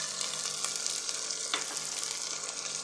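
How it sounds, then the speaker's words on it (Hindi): Chopped tomatoes going into a pan of pea pulao with peas already cooking, giving a continuous moderate sizzle with a few stirring scrapes. "हाँ जी, अब मैं इसमें टमाटर डालूँगी"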